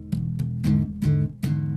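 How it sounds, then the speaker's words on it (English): An electric bass plays a dominant seventh chord in E in an R&B and funk style, with four plucked, ringing attacks in a steady rhythm, each sustaining briefly before the next, close and alone. "that's the sound of the chord."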